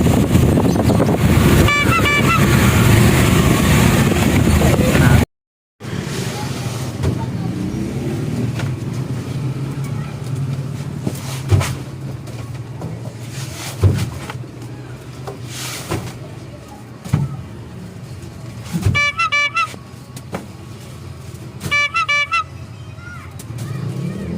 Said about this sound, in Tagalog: Traffic talaga lagi dito sa Baisa.